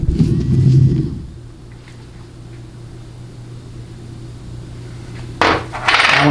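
Small metal rollers clatter out of a Ford C4 automatic transmission clutch during a 1967–1969 teardown, a quick burst of metallic drops near the start and another rattling spill near the end, with quieter handling noise between.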